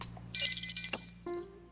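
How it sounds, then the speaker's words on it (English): A small bell on a modest bell tower gives one bright, ringing strike that decays over about a second, then a fainter second tap, close and alone. "it's a very modest bell tower, but it's a bell and it's on a tower"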